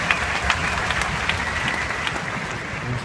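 A large crowd at a company's anniversary gathering applauds, a dense, even roar of clapping with a few sharper claps poking through, sustained and fairly loud across the whole stretch.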